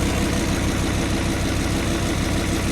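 A Kubota M125X tractor's diesel engine, suspected of a fault with diesel in the crankcase, runs at a steady, loud idle with a constant low rumble and even mechanical chatter throughout, no voices.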